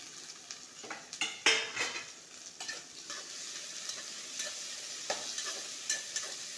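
Onion and tomato frying in a pan for dal khichdi, a soft continuous sizzle with scraping and clinking as a spoon stirs against the metal, close and fairly quiet with no talk.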